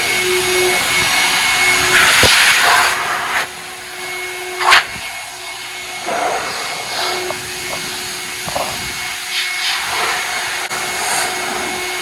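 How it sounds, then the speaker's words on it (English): A powerful car wash air dryer blows with a loud, steady rushing roar, punctuated by a few knocks and clunks, no talking. "Test out the air dryer."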